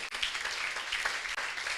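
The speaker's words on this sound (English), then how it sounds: "Ladies and gentlemen, with a round of applause, let's make welcome our speakers." An audience claps to welcome speakers at an orientation and health and wellness talk, a steady, moderately faint wash of applause filling the whole stretch with no voices on top.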